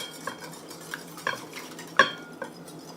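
Flour being whisked into a bowl of onion ring batter made with ice water, heard as soft stirring with a few sharp clinks of the whisk against the bowl, close by and alone.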